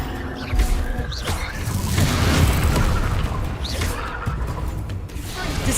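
Expelliarmus spell cast in Hogwarts Legacy, a booming magical burst with crackling impacts swelling over a few seconds amid game combat noise, close and loud.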